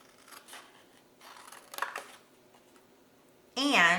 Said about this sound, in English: Now I'm going to cut out the triangles.